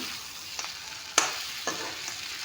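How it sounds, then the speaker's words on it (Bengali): Pieces of local chicken fry in a pan with a steady hiss, broken by a few scrapes and taps as the meat is turned. "চক মাংসখিনি ভাজি ল'লোঁ ভালকৈ এয়া চক ধুনীয়া শুকান কৰি ভাজি লৈছোঁ"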